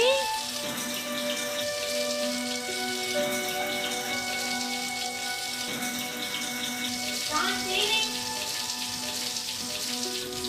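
Continuous running water pours steadily, like a tap filling a basin, with a faint tonal hum underneath and no clear speech.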